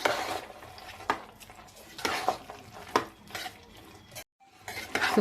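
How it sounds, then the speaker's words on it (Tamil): Yellow pumpkin and cowpea curry being stirred in a pot, a string of close, repeated scraping and clanking strokes against the vessel with a short silent break near the end. "நல்லா கலந்து விட்டுறலாம்."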